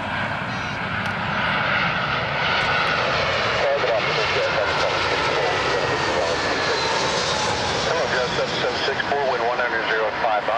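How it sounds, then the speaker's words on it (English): Airbus A320 jet at Toronto Pearson airport, a loud, sustained engine roar with a shifting whine as it passes nearby, with people talking over it. "Airbus A320"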